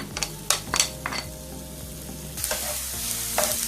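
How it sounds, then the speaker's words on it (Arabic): Chopped onion sizzles in olive oil in a frying pan, a steady close crackle broken by sharp scrapes and clinks of a spoon stirring against the pan. "ناخذ دابا مقله ندير فيها واحد معلقه كبيره ولا 2 معالق كبار ديال زيت البلديه، نزيد واحد ديك البصله اللي شلضنا"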